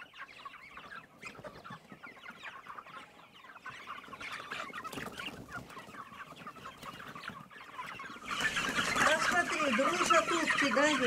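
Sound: muscovy ducklings and poultry on a farm

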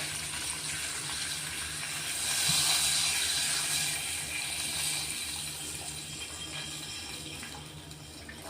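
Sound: water poured into hot pan

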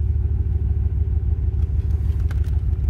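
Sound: AC blower motor running in 2007 Chevy Silverado 1500

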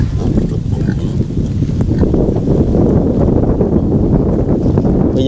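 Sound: piglets grunting

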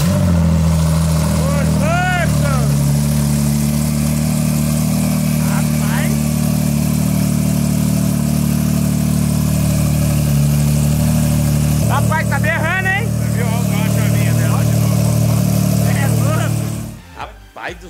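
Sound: Corvette engine idling

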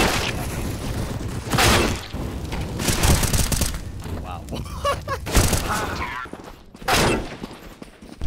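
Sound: gunshots in a video game shooter

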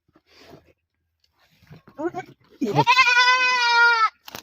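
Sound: goat bleating

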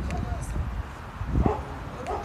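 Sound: dogs barking

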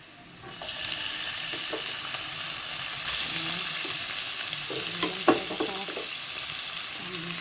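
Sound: pork being stir-fried in a pan

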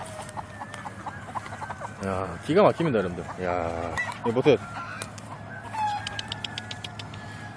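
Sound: free-range chickens clucking and rooster crowing outdoors

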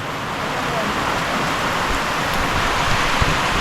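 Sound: heavy rain falling on a mountain hut

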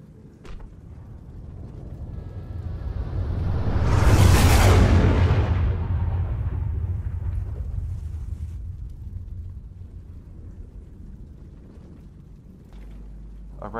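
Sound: audio drama effect of a green fireball crashing to earth

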